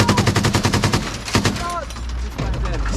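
Rapid gunfire at a tactical shooting summit in Tabuk City, Kalinga, with a dense burst of quick shots that thins to scattered reports, loud and close, while a voice shouts over the firing.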